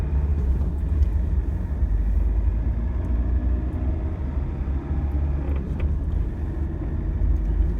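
A car rolling through city traffic in Ljubljana, a continuous low engine and road rumble that stays steady and near throughout, with faint passing noises.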